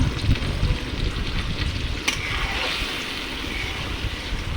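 Egg curry being stirred in a pan on the stove, a steady bubbling sizzle with low rumbling scrapes and a brief clink from the spoon, close and moderately loud.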